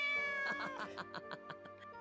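A cat in the Corpse Party: Book of Shadows video game meows repeatedly, a series of short, tonal, close cries over a faint musical backdrop.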